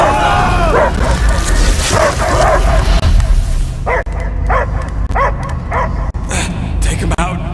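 Dog barking from the video game Marvel's Guardians of the Galaxy: a run of sharp, repeated barks and yips that sounds close and loud, landing over a dense, rumbling game score.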